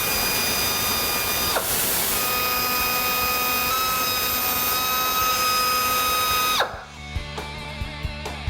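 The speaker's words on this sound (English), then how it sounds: "drill out more rivets to remove this channel from the actual window frame." A drill bores out rivets on a 1962 Ford Galaxie window frame channel: a steady, close motor whine holds for about six and a half seconds, then cuts off, leaving a few sharp clicks and taps.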